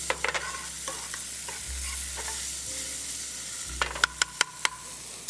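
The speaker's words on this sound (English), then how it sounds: "I'm gonna heat it up in this oil just to get those flavors going." Onions, garlic and roasted Fresno chilies sizzle in hot oil, a steady soft frying hiss with a low hum beneath and a few sharp clicks of a utensil stirring the pan near the end.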